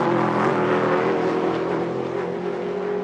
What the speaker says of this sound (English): Just look at this, the battle up front. Bernd Schneider pushing hard. Toyota versus Mercedes-Benz